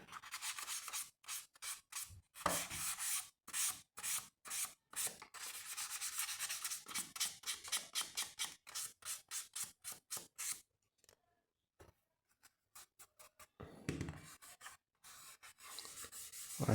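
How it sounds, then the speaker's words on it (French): Paint on a K2000 model car is hand sanded smooth in rapid rhythmic back-and-forth strokes, close and crisp, with pauses and short bursts toward the end. "Et voilà, c'est poncé, c'est bien lisse."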